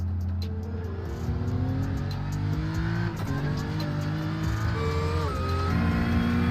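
Engine of an Acura race car in a racing game at Tsukuba, steadily droning and revving with gear shifts and rising pitch, loud and continuous with no talk.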